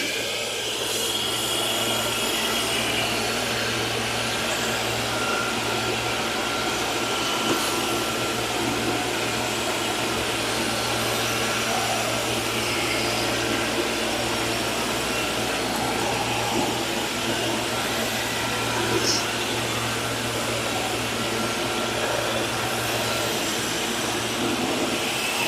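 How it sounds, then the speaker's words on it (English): A steady, loud motorized drone with a low hum and broadband suction noise runs unchanged throughout, an ICE i15B floor scrubber's vacuum sucking up water. "lower your squeegee, turn on the vacuum, suck up the water."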